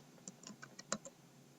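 A handful of light computer keyboard keystrokes, typing a short phrase, sound close and quiet, in uneven taps spread over a second and a half.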